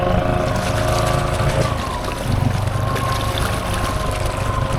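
A Foreman 32" Aztex RC boat runs through water ahead of Hurricane Milton. Its motor gives a loud, continuous drone with a washing hiss of water, close and steady throughout.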